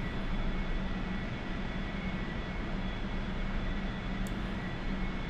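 Steady jet engine drone from an A-4E-C Skyhawk in the DCS World flight simulator, a loud continuous roar held at reduced throttle with no change over the stretch.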